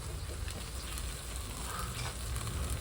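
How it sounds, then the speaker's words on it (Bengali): Ginger-garlic paste and spices sizzle steadily in a hot pan, a continuous close hiss and crackle with no voices. "ভালো করে কষবো, 2-3 মিনিট কষে নেবো।"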